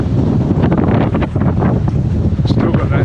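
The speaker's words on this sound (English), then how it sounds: "It's still quite breezy out here." Strong breezy wind buffets a small sailboat under a scrap of sail, a loud constant roar of gusts blasting close across the deck with water rushing beneath.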